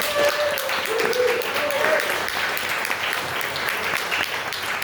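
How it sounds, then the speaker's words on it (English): An audience at a comedy night in Decibel Brewing Company gives a comedian a full, continuous round of applause that fades slightly toward the end, with a few voices carrying over it. "Please make sure we give a quick round of applause to Corey and Decibel Brewing."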